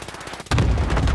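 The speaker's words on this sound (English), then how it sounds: "I heard it sounded like there were shots over this way" A burst of gunfire in a multiplayer shooter video game cuts in abruptly after a quiet moment, loud and sharp with rapid repeated cracks.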